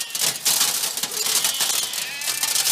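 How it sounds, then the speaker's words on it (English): Hail falling in a storm, a dense, rapid patter of hard clicks and ticks that keeps up without pause, fairly loud and close. "That's hail."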